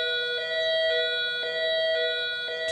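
A malfunctioning milking-time alarm rings as a steady, bright electronic tone with faint regular pulses, continuous and fairly close for the whole stretch.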